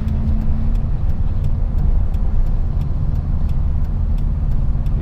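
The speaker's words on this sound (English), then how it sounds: "we're gonna go drive down the main street" Car cruising down the main street of Deadwood, South Dakota: a steady, low engine and road rumble heard from inside, with faint regular ticking above it and no voices.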